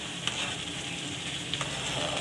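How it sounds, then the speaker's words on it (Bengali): Garlic cloves, chopped tomato, papaya and slit green chili sizzle steadily in a hot pan for a mutton dish, a close, soft, continuous frying hiss with faint stirring scrapes. "আর গোটা রসুন, টমেটো কুচি আর পেঁপে কুচি আর কাঁচা লঙ্কা চেরা, এটা দিয়ে একটু কষিয়ে নেবো।"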